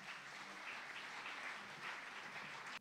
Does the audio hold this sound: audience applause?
yes